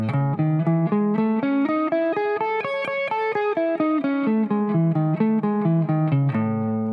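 Steady alternate-picked electric guitar notes climb and then fall through a two-notes-per-string major scale shape with three notes on the top string. The playing is close and even, the tone clean and sustained, with no voice.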